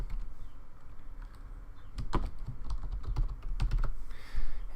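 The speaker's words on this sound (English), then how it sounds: "Apply, again, type in the password." A password is typed on a computer keyboard, with a quick irregular run of close key clicks over a low steady hum.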